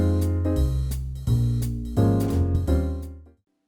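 Jazz piano voicings, played by an improvisation app: four full, rich block chords sound in steady succession, each sustained and close, with nothing else heard.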